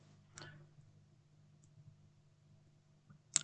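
Sparse computer mouse clicks on a quiet desk, a soft click near the start and a sharper, louder one at the end, with faint hum between.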